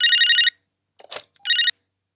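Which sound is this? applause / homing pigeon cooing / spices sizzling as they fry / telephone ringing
telephone ringing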